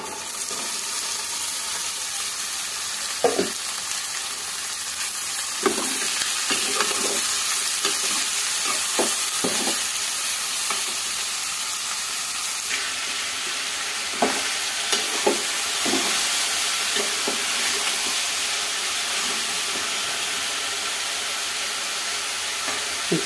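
Half a kilo of ivy gourd with turmeric fries in a pan, its steady sizzle broken by a spoon's stirring scrapes and soft knocks, close and continuous without talk.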